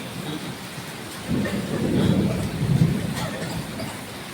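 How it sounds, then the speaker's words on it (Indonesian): Low thunder rumbles through a steady hiss of rain, swelling in the middle and fading again, distant and muffled. "guntur berbunyi, guntur berbunyi"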